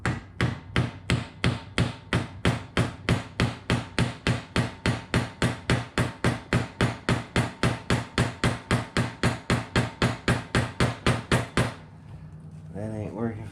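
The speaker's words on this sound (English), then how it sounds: "I'm gonna tap on it as I'm turning." Steady, rapid hammer blows strike an impact screwdriver while it is turned, working on a 2002 Yamaha 225 outboard; about forty sharp, evenly spaced metallic knocks, close and loud, then they stop and a brief rustle follows.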